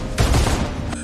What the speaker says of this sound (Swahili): Zungu alifyatua risasi mfululizo kuelekea kwa mlinzi huyo